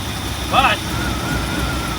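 A 1962 Ford Thunderbird engine with a newly fitted Edelbrock carburetor idles steadily at close range, a continuous low rumble with a brief higher-pitched sound partway through.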